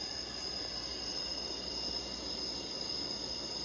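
Steady chirping of crickets from a white noise sound machine's Summer Night setting forms a continuous night-time insect drone with a faint hiss underneath, no voices.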